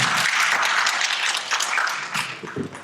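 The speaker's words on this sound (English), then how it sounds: "So give me a round of applause for Mario." Audience applause for Mario Valverde at a NAHREP Dallas Elevate event, a dense burst of clapping that starts loud and gradually thins out over about three seconds, with a few scattered claps trailing at the end.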